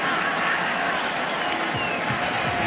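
A stadium crowd at a 2016 Bears versus Cowboys NFL football game roars in a dense, continuous wash of cheering that fills the whole short moment.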